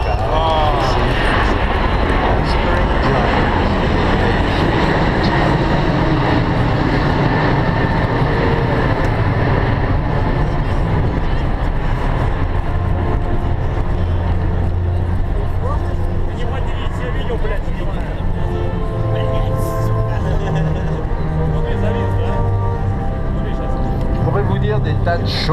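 An Airbus A380 airliner in a flying display at the Paris Air Show, its engines giving a loud, continuous broadband roar for the whole stretch, with no break and some slow tonal shifts as it passes.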